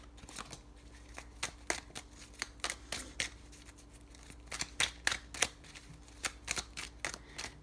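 Large tarot deck of over a hundred cards shuffled by hand nearby, crisp card slaps and riffles arriving in irregular clusters, quiet and close with no voices.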